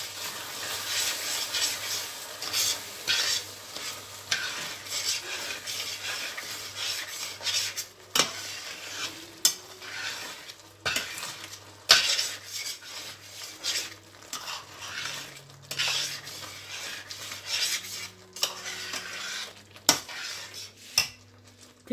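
Grated carrots and sugar for gajar halwa are stirred and roasted in a pan, with repeated metal spoon scrapes and clinks against the pan over a faint, steady sizzle.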